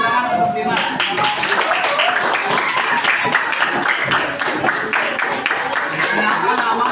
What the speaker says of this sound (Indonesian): beri tepuk tangan untuk Dimas